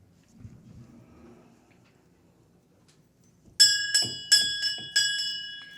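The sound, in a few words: bell ringing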